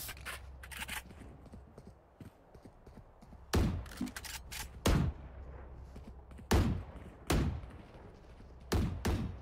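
Gunfire in a shooter video game: several sharp, loud shots in separated bursts, spaced a second or two apart, with faint scraping and low background hum between them.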